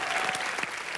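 Studio audience on the Colors TV comedy show Entertainment Ki Raat bursting into loud, dense applause, steady and continuous with no break for the whole short stretch.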